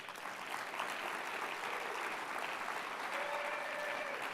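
A conference audience claps together at a corporate innovation awards session, sustained even applause from a large crowd, with a faint whistle near the end.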